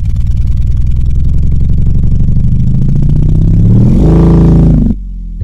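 Synthesized four-stroke chopper-style motorcycle engine, a steady low throbbing idle that swells into a louder rev near the end before cutting abruptly to a quieter hum.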